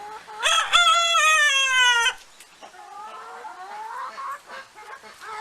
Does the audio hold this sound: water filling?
no